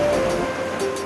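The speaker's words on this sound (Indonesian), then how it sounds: "Menyusuri air sungai yang deras dengan rakit bukan perkara mudah." Swift river water rushes and churns around a bamboo-style raft as it is steered past large rocks, a loud, close, continuous roar of turbulent current with splashy surges.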